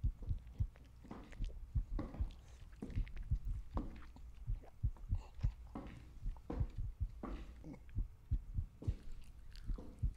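Heavy thumping heartbeat from the horror video game Wrong Floor, a steady close double-pulse rhythm repeating throughout, loud and unaccompanied by talk.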